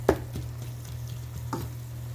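Ground meat browns in a pan with onion, garlic and cilantro, a faint steady sizzle broken by a few soft scraping, chopping taps of a utensil breaking up the pieces, with no talking.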